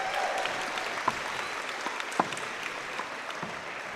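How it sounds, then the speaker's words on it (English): Audience applause for a player at the World Wallball Championship, a steady round of clapping from a crowd throughout, with a few sharper claps standing out. "Put your hands together for Eilise McCrory."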